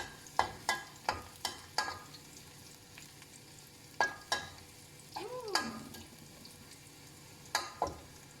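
Chopped garlic frying in a pan, heard as a soft, continuous sizzle under a run of sharp spatula taps and scrapes against the pan, spaced irregularly across the stretch.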